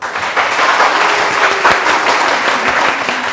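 A studio audience at a Pakistani television morning show claps steadily, a dense, loud wash of hands that holds for a few seconds without a break.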